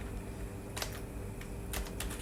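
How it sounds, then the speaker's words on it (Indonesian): Keys tapped on a computer keyboard while a name is entered into an employee attendance app, two short bursts of quick clicks separated by a pause, close and clear over a steady room hum. "Nama misalnya di sini saya ketik"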